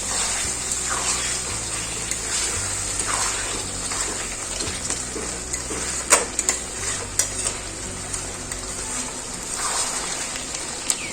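Mutton being kosha-style stir-fried in a pan for a festive Bengali meal sizzles and hisses continuously, with occasional scraping stirs and clinks of a spoon against the pan, close and steady without talk.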